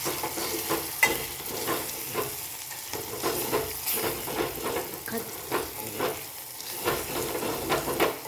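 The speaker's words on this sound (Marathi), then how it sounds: "30 सेकंदापर्यंत असं परतून घेऊ" Tempering spices for dal sizzle and crackle in hot oil with a steady frying hiss, punctuated by repeated scraping stirs of a spoon against the pan.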